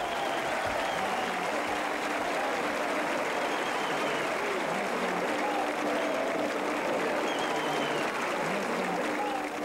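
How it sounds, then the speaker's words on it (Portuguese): Crowd applauding Spanish matadors at a bullfighting festival in Barrancos, a steady wash of clapping heard from a distance, fairly faint, with some voices and tonal sounds mixed underneath. "aqui aplaudidos por todos."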